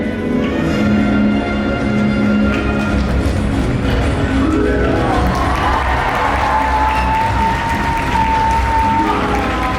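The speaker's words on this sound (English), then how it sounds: "let's give her a great big cheer" Large audience in a SeaWorld Orlando stadium cheering loudly for an orca show, a continuous wash of crowd noise and shouts with a faint whistle-like tone rising through the middle.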